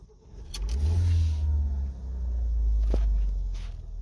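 A Ford Focus engine fitted with an upgraded throttle body from a 2018 2.3L EcoBoost Mustang cranks and catches, then revs in two strong, deep rising swells close to the microphone, with no one speaking.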